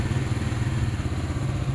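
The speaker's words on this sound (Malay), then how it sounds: "Macam mana nak start motor?" A Zontes 368G motorcycle engine runs close by at a steady, low throbbing idle, with no voices over it.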